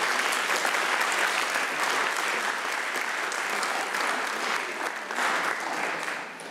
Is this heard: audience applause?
yes